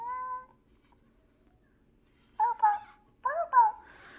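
A Cupboo robot pet quietly singing to itself: a short tonal warble, then two pairs of soft, rising and falling chirpy notes, faint against near silence.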